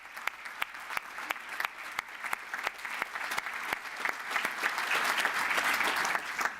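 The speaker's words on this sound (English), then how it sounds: "that definitely deserves a big round of applause" An audience at a university graduation ceremony applauds steadily, with dense clapping that grows fuller and louder before easing off at the end.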